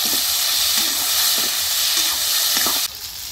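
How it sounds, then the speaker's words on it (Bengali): Garlic, tomato and amla powder hit fried green chilli and onion in a hot pan, producing a loud, steady hissing sizzle with light stirring scrapes that drops off sharply at the end. "এখন দিব রসুন, টমেটোর আর আমলা গুঁড়া একসাথে দিয়ে দিব।"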